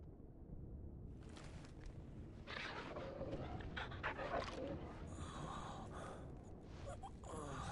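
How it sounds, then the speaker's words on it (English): A dog pants heavily in the Final Fantasy 16 video game, a steady breathy rhythm under game music and ambient sound. "Fine hound."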